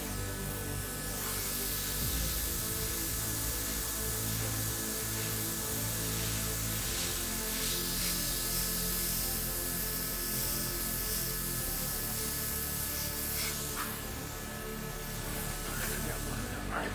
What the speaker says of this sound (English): Just done with a lot of delicate airbrushing.